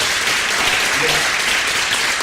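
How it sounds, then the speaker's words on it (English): Steady applause from an audience at a political group meeting, a continuous broadband wash of clapping that holds at even loudness throughout with no pauses. "Give them a round of applause."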